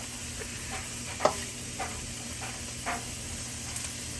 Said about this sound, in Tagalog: Lagyan natin siya ng konting toyo.